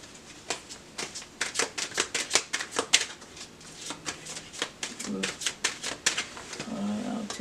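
Tarot cards riffled and shuffled in quick, crisp bursts, close and fairly loud, with brief pauses between runs and a soft voice murmuring low in the background.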